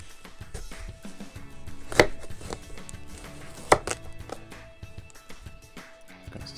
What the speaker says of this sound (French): Une courgette du jardin qu'on va venir donc couper en deux.